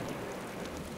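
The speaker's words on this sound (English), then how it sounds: "thunder and lightning drown out the relentless beating rain" Heavy rain pours down during a storm in the Chernobyl exclusion zone, a steady, dense hiss of drops beating on surfaces with no voices and no distinct thunderclap.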